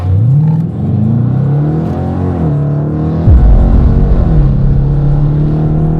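A car engine on a fake Hellcat revs hard while the car slides, a loud, continuous roar with rising and falling pitch sweeps and a deeper surge partway through.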